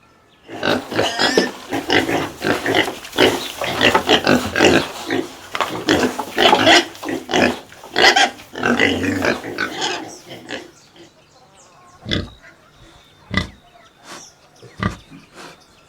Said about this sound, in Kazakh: Шошка.